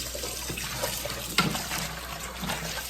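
Water runs and splashes into a bowl as oxtails are rinsed in a home kitchen, a steady low trickle with a brief sharper splash midway and faint background noise.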